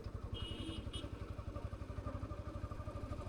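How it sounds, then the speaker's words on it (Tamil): A 2025 Bajaj NS160 motorcycle engine running in third gear, a steady, close, rhythmic thrum of quick even pulses throughout with a brief higher whine early on. "தேர்ட் கியர் தட்டவே ஸ்டார்ட் ஆயிடுச்சு."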